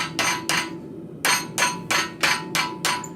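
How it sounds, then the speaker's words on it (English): A blacksmith's hammer lands light planishing blows on a forged arrowhead socket, about seven crisp, ringing metallic strikes in a steady rhythm with a brief pause partway, close and fairly loud. "This is more of a plenishing kind of hit, a really light hit."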